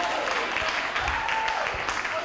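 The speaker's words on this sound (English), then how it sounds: "Clap for us now." An audience claps at a training event. The applause is dense and steady and lasts the whole short moment, with a voice speaking over it.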